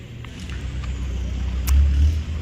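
A camper truck's engine rumbles low and steady, swelling louder as it pulls away on a test drive, with faint traffic-like noise in the background.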